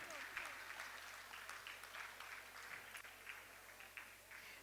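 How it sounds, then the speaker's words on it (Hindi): An audience at a Jaiswal community gathering in Jabalpur claps steadily, a dense, continuous wash of applause heard from a distance with a low hum underneath. "थोड़ी तालियां तो बजाएं हम जोर से।"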